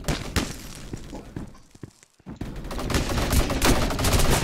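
Pistol shots in a first-person video game fire in a rapid, loud string of sharp cracks, then a brief pause before the shooting resumes densely over busy game noise.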